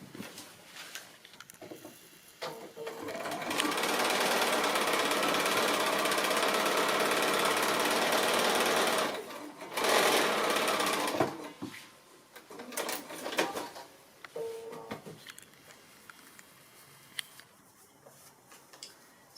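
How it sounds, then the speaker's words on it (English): A sewing machine stitches a seam on a foundation-pieced quilt block, running in one steady run of several seconds and then in a short second burst. Quieter handling noises come before and after the stitching. "so I can go ahead and stitch that line up there"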